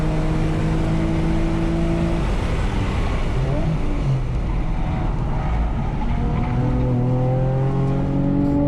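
Race car at speed on the Thunder Hill track, a loud in-car engine roar rising and dropping through gear changes, with road and tire noise underneath and faint talk.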